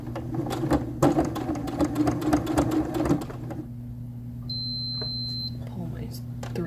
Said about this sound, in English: I'm just going to sew a line right there.